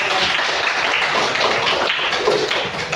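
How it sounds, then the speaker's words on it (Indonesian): Classroom students applaud a classmate named Reno, a dense, steady patter of many hands clapping together at close range, with no voices over it. "beri aplaus kepada Reno"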